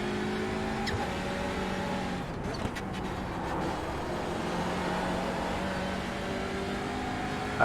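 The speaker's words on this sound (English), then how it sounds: "I'm going to be passed by one more car." Race car on the Nurburgring during an endurance race, with a steady engine drone throughout and another car closing in and passing nearby, its sound swelling briefly mid-clip.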